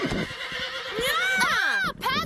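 A horse lets out a loud, close whinny that rises and then trails off in a falling, quavering neigh, with faint hoof clops, at a fair where a team of horses and riders performs.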